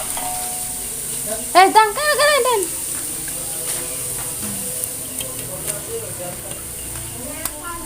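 Rengginang rice crackers fry in hot oil, a steady close sizzle with scraping stirring strokes and a few brief spoken words.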